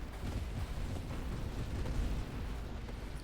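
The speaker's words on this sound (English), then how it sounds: "That was just a lot of explosions and shaking" Dense, continuous rumbling explosions from the space shooter game Nova Drift, a steady barrage of booms and blasts with no gaps, loud and sustained throughout.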